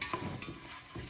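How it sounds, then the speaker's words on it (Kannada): A soft, steady sizzle of food frying in a pan, faint and close, with light scraping stirs breaking in now and then. "ಸ್ವಲ್ಪ ಹೊತ್ತು ಫ್ರೈ ಮಾಡೋಣ"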